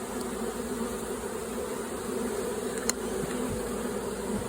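A honey bee swarm with several queens buzzing as it moves into a hive, a dense steady hum of many bees close by.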